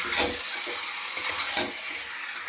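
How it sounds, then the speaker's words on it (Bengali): Boiled eggs being stirred in a frying pan, with a continuous close sizzle and frying hiss and soft scraping strokes of a spatula throughout. "দেখেছেন সব ডিমগুলো দিয়ে আমি কী করবো, নাড়াচাড়া করে দেবো"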